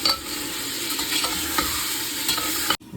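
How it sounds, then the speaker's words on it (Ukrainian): Steady loud sizzling of onion and meat frying in an Afghan cauldron (kazan), with occasional stirring scrapes, cutting off abruptly near the end. "половину її викидаємо в казан до м'яса, хай смажиться"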